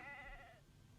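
A single sheep bleats once, a short wavering cry near a hillside where a flock is driven downhill, fading out quickly with no voices around.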